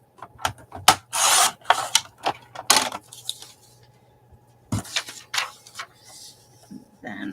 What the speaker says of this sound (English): Okay, so let's cut the edge off and a little bit of the sky, I think. I'm going to trim it down some.